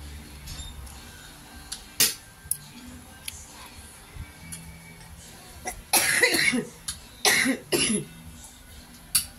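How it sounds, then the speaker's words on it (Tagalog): A few sharp coughs burst out near the end, close and fairly loud, after quieter background noise and small clicks. "Pagpasensya nyo na, may ubo pa."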